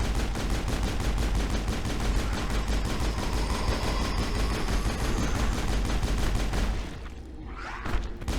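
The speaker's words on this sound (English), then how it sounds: "We gotta keep shooting the Thorian, man." Sustained rapid gunfire in Mass Effect aimed at the Thorian, a dense, loud, continuous stream of shots for about seven seconds that briefly thins near the end before a final few bursts.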